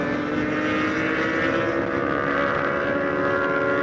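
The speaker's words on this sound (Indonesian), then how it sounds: "ada anak motor guys, kebut-kebutan guys" Motorbikes speeding past on a road, a loud, continuous rushing engine roar with wind buffeting the microphone.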